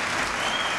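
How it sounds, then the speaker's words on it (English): A debate audience breaks into loud, dense applause, steady clapping from a large crowd filling the whole moment. "I will ask the audience, please do not applaud"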